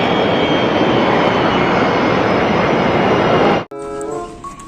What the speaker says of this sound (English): Mini aeroplane, nice.